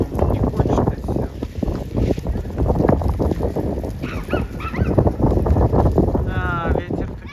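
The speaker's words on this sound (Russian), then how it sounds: "Да, ветер-то, конечно." Wind gusts across an outdoor basketball court, producing steady loud rumbling buffeting on the microphone throughout, with people talking over it.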